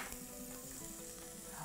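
Garlic sizzles in a hot pan for a vegetable and cheese omelette, a steady, fairly quiet frying hiss with no talk, lasting under two seconds.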